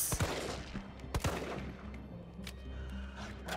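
A few sharp gunshots ring out in Resident Evil 3 Remake, two or three distinct cracks over a low, steady game ambience at moderate volume.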